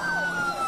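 An ambulance siren wails steadily at the scene of an explosion, loud and continuous with its tone sliding, and no voices over it.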